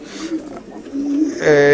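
Racing pigeons coo softly in low, rolling calls close by while people talk over them.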